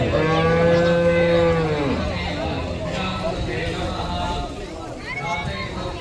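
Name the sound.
cattle mooing, cows gathered in Jaffna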